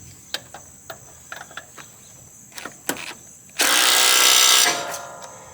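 Impact tool rattling a blade bolt tight on an Exmark Radius E-Series zero-turn mower, a loud, steady burst of about a second following several faint clicks and taps.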